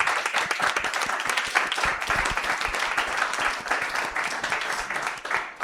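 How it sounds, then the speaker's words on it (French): Audience applause for the participants at the close of a round-table panel on rural health workforce, steady dense clapping from a crowd filling the room for several seconds before fading. "je vous propose qu'on applaudisse bien fort nos participants"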